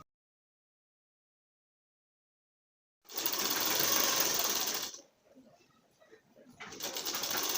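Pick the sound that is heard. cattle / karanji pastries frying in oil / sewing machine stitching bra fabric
sewing machine stitching bra fabric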